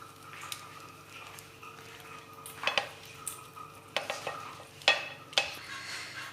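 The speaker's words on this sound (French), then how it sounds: "Maintenant je vais ajouter du cheddar. Donc je vais râper tout le fromage sur le dessus." Cheddar cheese is grated over a pie filling with several short, rasping scrapes in irregular bursts, fairly quiet, against a faint kitchen hum.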